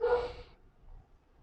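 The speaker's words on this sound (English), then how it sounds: "That's the dog barking from my neighbor's 2 doors over." A single short bark from a neighbor's dog two houses away in Panajachel, Guatemala, fairly faint and distant, followed by quiet.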